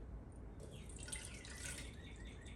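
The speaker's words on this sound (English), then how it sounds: "So here's my 2/3 cup of water" Warm water pouring and trickling into the pan of a bread machine, a steady wet splashing stream that is fairly faint and runs for the whole stretch with no voices.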